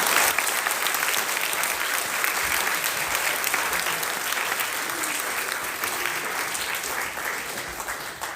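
Sustained audience applause following a school brass band performance, a dense steady clatter of many hands that fills the whole stretch and eases off only slightly toward the end.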